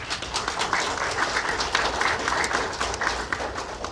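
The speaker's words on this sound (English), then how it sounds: "So please give yourself a round of applause." Hospital staff applaud at a COVID-19 remembrance event, a steady wash of many hands clapping at moderate volume throughout, with no talk over it.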